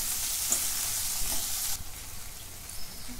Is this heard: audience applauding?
no